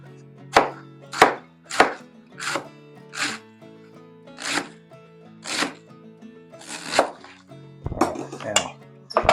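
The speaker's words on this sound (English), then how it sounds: "cutting it probably 3 millimeter slices" A knife slicing cabbage into thin 3 mm strips for sauerkraut, a dozen crisp chopping thuds against a board in a steady, slightly uneven rhythm, close and clear with no talking.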